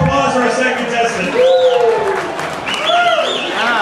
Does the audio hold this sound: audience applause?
yes